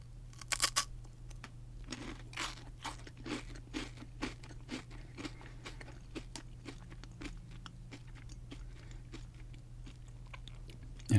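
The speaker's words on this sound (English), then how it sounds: "And this shell is quite crunchy." Close, crisp crunching of a chocolate-filled snack shell, repeated bites and chews in an irregular rhythm, quiet and alone without talk.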